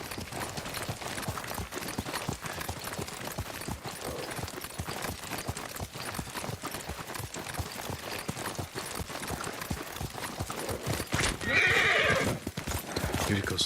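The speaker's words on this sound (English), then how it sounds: "Yuriko's horse. She can't be far." A horse in the video game Ghost of Tsushima gallops with steady, rapid hoofbeats throughout, loud and close, and near the end it gives a sharp neigh over the pounding gait.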